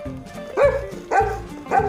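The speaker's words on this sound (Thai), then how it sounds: "เห่าทำอะไรล่ะ" A dog barks three times in a slow, even rhythm, each bark close and loud with a yelping, slightly whiny edge, with no talk over it.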